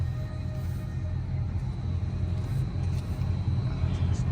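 Deep, steady engine rumble from a Dodge Charger R/T on a cold night in Times Square, New York City, held close and even throughout without sharp rises.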